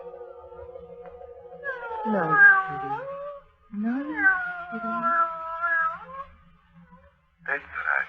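A cat gives long, drawn-out wailing meows, two extended sliding cries followed by a short one, fairly close, over a faint low hum and a steady tone in an old radio drama.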